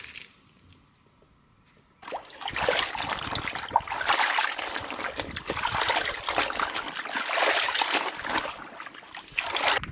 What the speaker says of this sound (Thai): เสร็จแล้วก็ล้างน้ำสะอาด 1-2 รอบ